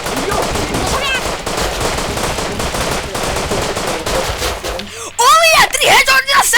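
Rapid, continuous automatic gunfire from the Rust video game crackles nonstop. It is loud and dense, and a voice shouts over it near the end.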